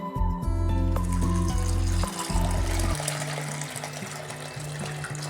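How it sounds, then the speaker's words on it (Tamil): Tap water pours into a bowl of soaking chana dal, a steady full gush for about three seconds that then eases into a lighter stream and trickle. "அண்ட் வாட்டரை ஊற்றிக்கலாம்."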